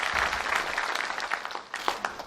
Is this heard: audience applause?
yes